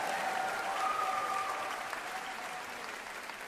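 A live audience cheers and applauds loudly for Traveler, the mascot, at a Trojan spirit event. The sustained clapping and cheering stays steady throughout and fades slightly toward the end, with no talk over it.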